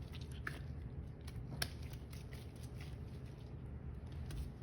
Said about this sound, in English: Now what we're going to do basically now is squeeze the water out.